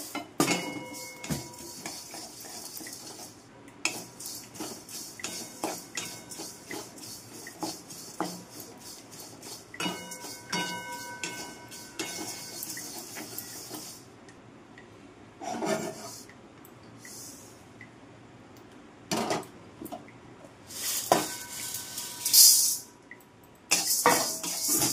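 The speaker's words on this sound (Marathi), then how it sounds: "आता पोहे भाजणार आहोत आपण." Poha dry-roasting in a kadai as a spoon scrapes and stirs it, giving repeated metallic rasps, clinks and rubbing sounds in irregular bursts, fairly close and moderately loud.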